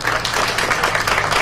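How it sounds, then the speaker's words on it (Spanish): Audience applause at an education award ceremony where regional banners are presented, a loud, close burst of many people clapping with a steady rhythm and a low background hum underneath. "Aplausos, por favor."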